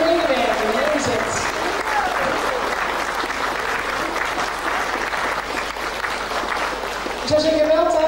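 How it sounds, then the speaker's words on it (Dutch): Hearty applause at a 50th-anniversary celebration of a seniors' association branch in Prinsenbeek, a full room clapping steadily for several seconds before a voice comes in at the end. "wil ik nog één daverend applaus"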